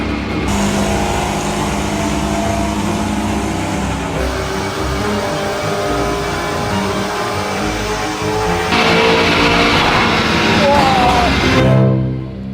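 A Lamborghini Urus being tuned runs hard on a dynamometer, its engine roaring loud and steady for the whole stretch, the revs building and holding before dropping off sharply at the end.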